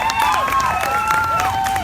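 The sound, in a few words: audience applause at fair queen coronation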